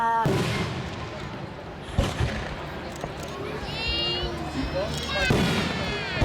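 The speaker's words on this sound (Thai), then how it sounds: "ถ้าชอบพลุต่างๆ ที่ขึ้นไปสู่บนท้องฟ้านะคะ" Fireworks go off at the opening of the 2016 Si Samrong food festival, with sharp booms, rising whistles and crackling bursts over a steady crowd murmur.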